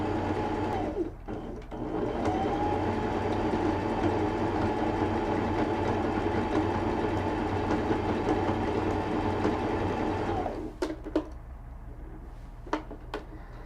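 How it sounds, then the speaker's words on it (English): Baby Lock Anna sewing machine stitching through layers of stretchy fabric, a close and steady mechanical whir lasting about nine seconds, then it stops, followed by a few soft clicks and handling noises. "And I'm just going to sew."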